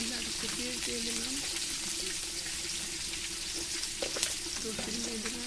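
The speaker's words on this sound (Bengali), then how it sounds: "পেঁয়াজটা ভালো হয়ে যাচ্ছে, এর মধ্যে আর একটু পেঁয়াজ দিয়ে দিলাম" Onions frying in a pan: a continuous close sizzle with light crackling, partly under someone talking.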